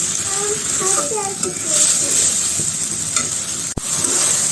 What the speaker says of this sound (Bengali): এখন ডালের সাথেও ভালোভাবে কষাবো